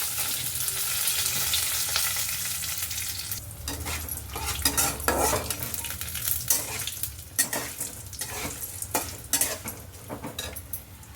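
Fresh curry leaves and onion hitting hot oil for capsicum vangibath: a loud, continuous sizzle with a sharp spatter as they go in, followed by repeated spoon scrapes and clinks against the pan, no talk.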